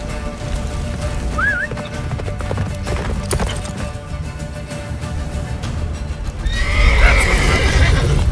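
Roach, a horse in The Witcher 3, gallops in steady, rapid hoofbeats. A clear whinny cuts through midway, and the galloping grows louder and closer toward the end.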